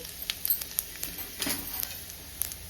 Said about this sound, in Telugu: ఇలా కొంచెం ఆయిల్ వేసుకుని ఎండుమిర్చి కూడా వేయించుకోవాలి ఎండుమిర్చి వేయించాక ఇలా పోపు వేసుకోవాలండి